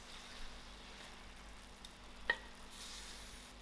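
Tomatoes with salt are stirred in a pan over quiet, faint sizzling, with one sharp utensil tap against the pan partway through.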